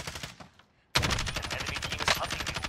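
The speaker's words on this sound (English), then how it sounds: "I'm shooting at your mark." Sustained automatic gunfire in Call of Duty Warzone bursts in after a brief near-silence, a fast steady rattle of shots close and loud, with no voices.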